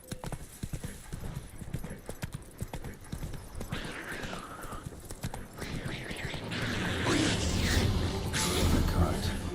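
Hooves clip-clop steadily as a horse gallops in the video game Witcher 3, close and prominent, with a brief whinny and rising rumble of movement, while a voice talks over it.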